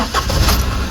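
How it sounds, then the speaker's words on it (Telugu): A Maruti Suzuki Celerio ZXi petrol car engine cranks and catches in a brief, close burst, settling toward a rough idle, with no talk. "ఇంజన్ అయితే స్టార్ట్ చేస్తున్నాయిగా"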